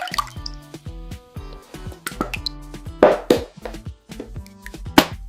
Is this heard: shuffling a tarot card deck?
no